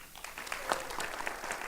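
An audience at a wellbeing talk applauds to welcome a speaker, a steady, fairly faint wash of many hands clapping at a distance, with no voices over it.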